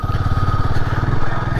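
A motorcycle engine idles and chugs up close with a steady, rapid throbbing pulse as the bike is swung around, loud and continuous with no voices.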